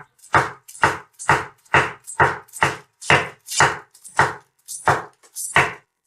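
A knife chops cabbage for pickling on a cutting board in a steady rhythm of about a dozen crisp, evenly spaced strokes, close and distinct, with no voices.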